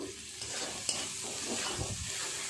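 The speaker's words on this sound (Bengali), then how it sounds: "খুব ভালো করে মশলাটা এইভাবে নেড়ে নেড়ে কষিয়ে নেব।" Potatoes with cumin powder, chili powder and salt are stirred and fried in a pan, a continuous close sizzle with rhythmic scraping sweeps of the spatula, with no speaking.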